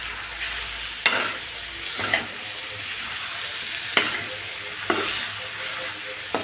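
Capsicum and eggplant in masala paste sizzle steadily in a pan, with a few sharp scrapes of a spoon stirring the vegetables at irregular intervals; no talking.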